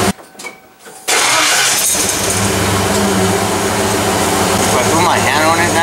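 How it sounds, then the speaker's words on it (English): A car engine with a fixed cylinder misfire, reattached to its wire, runs loud and steady at the exhaust after a brief quieter start, with an even continuous rumble and no stumbles. "It's coming out nice and even."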